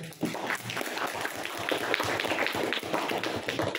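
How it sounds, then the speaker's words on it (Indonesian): Classroom applause for a student group during a geography lesson, a steady wash of many hands clapping throughout, moderately loud and fairly close, with faint voices underneath. "Aplaus buat kelompok 1"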